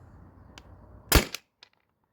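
A Byrna launcher running on CO2 fires a 3-gram ball through a chronograph, giving one sharp, loud pop followed by a brief clatter and a faint click after quiet room noise.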